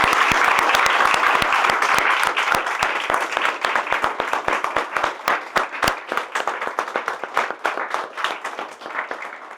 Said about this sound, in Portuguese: Quem crê, aplaude.